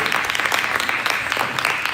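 Audience at a Navarasam cultural event gives steady, dense applause throughout, a continuous wash of many hands clapping at even loudness.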